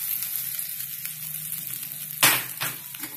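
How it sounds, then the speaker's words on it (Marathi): Poha dropped into hot oil, setting off a steady close sizzle and fry that swells into a louder burst partway through, with no talk. "तेल गरम असताना पोहे टाकायचे"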